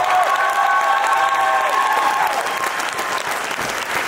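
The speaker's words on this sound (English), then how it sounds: "give a big round of applause to every band that played here tonight" A festival crowd at a night concert event gives a big round of applause for the bands, loud dense clapping with some cheering and whistles near the start, fading slightly over several seconds.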